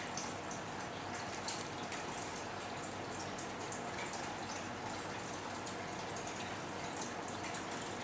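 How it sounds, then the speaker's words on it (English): Orange apricot glaze sauce with Dijon mustard poured over a pork roast, a steady soft liquid trickle and splatter running continuously without a break, close and fairly quiet with no talking. "going to go ahead and pour a little bit over our roast."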